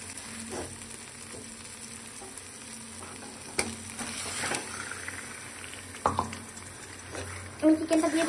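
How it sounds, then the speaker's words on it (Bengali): Chicken added to a spice masala sizzling in oil for chicken kosa curry, a steady close frying hiss with stirring scrapes and a few sharper clatters and pops toward the end. "এই মুহূর্তে আমি চিকেনটা দিয়ে দেবো এর মধ্যে।"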